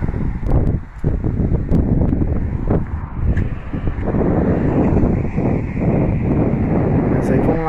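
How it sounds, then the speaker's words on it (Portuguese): Strong wind buffets the microphone in a constant rumbling roar while someone talks over it, outdoors while fishing. "tá ventando hoje muito."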